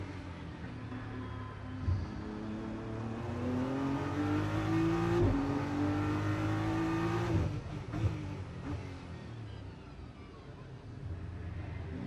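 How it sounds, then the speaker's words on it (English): A GT race car on a Macau Grand Prix practice lap, engine note rising under sustained load through several gears, dipping briefly around the shift, then easing off near the end; loud and continuous throughout. "You can tell off the engine note where he's just slightly hesitant where he commits"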